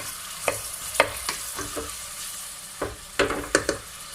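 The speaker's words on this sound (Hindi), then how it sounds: "प्याज को हम ज़्यादा फ्राई नहीं करेंगे, इसको बिल्कुल लाइट सा करना है।" Onions frying lightly in oil in a pot, a soft background sizzle broken by a series of sharp scraping stirs, several in a row, close and clear with no talking.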